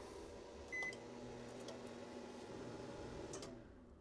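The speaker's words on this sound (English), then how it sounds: "That battery was able to run that microwave for 12, 14 seconds" A full-size microwave oven runs on a lithium iron phosphate trolling motor battery through an inverter, giving a steady close hum with a brief beep near the start before the drone fades at the end.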